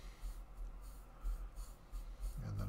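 A watercolor pencil is rubbed across paper in soft, faint scratchy strokes, an irregular close-up scraping rhythm that ends with a slightly louder rub.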